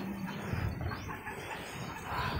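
Chickens clucking on a farm where goats are also kept, a soft scattering of low clucks and bird chatter under steady background noise, moderately close and fairly quiet.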